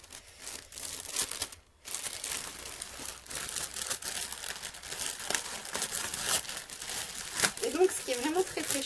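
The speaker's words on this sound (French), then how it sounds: "Je vais ouvrir le paquet. Ah oui, donc c'est un paquet dans un paquet." Plastic packet of towels, with a second packet inside, being torn open, giving crisp crinkling and crumpling rustles that keep going in bursts with a brief pause, close to the mic while someone talks.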